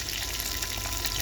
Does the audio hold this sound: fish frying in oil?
yes